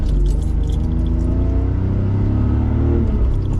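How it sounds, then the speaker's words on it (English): A manual stick-shift car, driven by a beginner who seems to miss the clutch, gives a loud, steady engine rumble with a rough gear-grinding edge that continues throughout, with no voices. "I'm over here grinding gears and shit."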